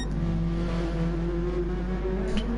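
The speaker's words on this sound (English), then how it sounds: "Listen to that Nissan's tyres screeching" A Nissan race car at Suzuka circuit, engine droning steadily while tyres squeal under load, with a brief sharper screech near the end; no voices.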